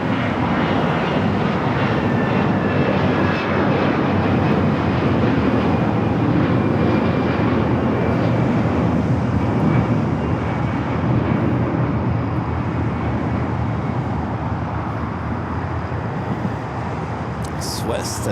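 A Swiss Boeing 777-300ER arriving from Zurich taxis at Los Angeles airport, its engines producing a continuous broad roar with a faint whine throughout, fairly close and steady.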